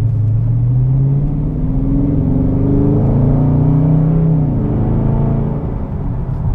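The exhaust of a 2021 Dodge Charger Scat Pack rumbles loudly and close, its deep tone swelling and sliding upward as the engine revs, then easing back down.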